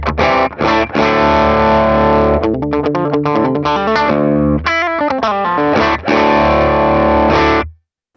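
Overdriven electric guitar through the Morgan Amps Suite with overdrive and a 57 and condenser cab setup, playing sustained distorted chords and a busier riff in the middle, loud and continuous, alone.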